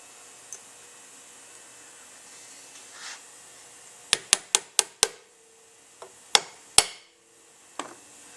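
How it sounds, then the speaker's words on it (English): Sharp metal taps from a tool knocking a seal into an AC 9804 military fuel pump casting: a quick run of five close, crisp strikes, then three more spaced taps, loud and near in a quiet room. "take whatever tool you use to knock this in, give it a couple of taps"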